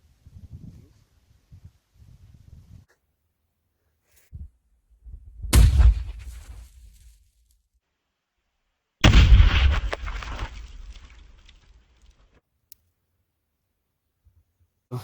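RGD-5 hand grenade detonations at an outdoor test range, two loud sharp blasts a few seconds apart, each followed by a rumbling decay, with quiet gaps and faint sounds between them.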